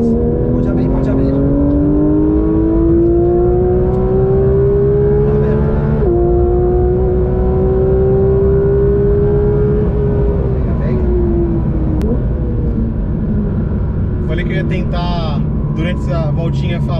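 A Porsche 911 GT3 RS engine accelerates hard on a race track, its loud rising tone climbing steadily through the gears with brief shift breaks. Someone talks excitedly over the constant engine roar.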